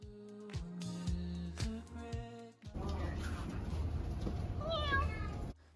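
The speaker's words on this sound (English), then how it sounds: "You will see a lot of stray cats on this island." A stray cat on a Greek island in Mykonos meows several times, fairly close and clear, the calls rising and falling over a steady background hum.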